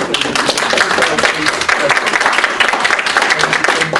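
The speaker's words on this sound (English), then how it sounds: "Can I have a big round of applause for these two?" Audience clapping after a Dungeons & Dragons panel at a convention, a loud, dense burst of applause sustained evenly for several seconds with voices mixed in.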